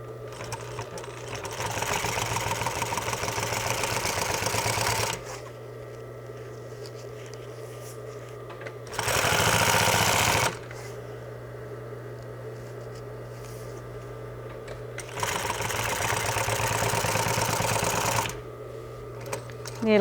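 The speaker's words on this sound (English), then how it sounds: "start top stitching this piece that you just rolled over." A sewing machine top stitches a flat fell seam in bursts, its rapid mechanical whirring running for several seconds, pausing, returning briefly louder, pausing again, then running once more, with a low steady hum between bursts.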